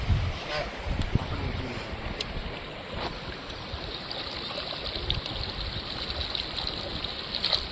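Steady trickling and rushing water of a small stream fills the scene outdoors in the wild near Surendranagar, a continuous broadband wash with occasional small splashes, close by and fairly loud, with no voices.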